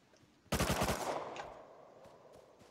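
Submachine gun fire from the game Rust: a short rapid burst of about half a second, loud and near, then a reverberant tail fading into quiet with a few faint clicks.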